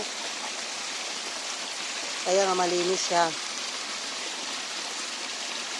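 A clean riverside stream flows steadily as broadband rushing water throughout, with a short stretch of conversational speech in the middle sitting over the constant flow.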